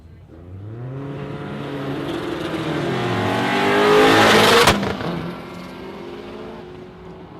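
Drag race cars, including an F100, launch at Warwick Dragway with a roaring engine that climbs in pitch as they accelerate hard. The roar peaks loudly, cuts off sharply, then fades away.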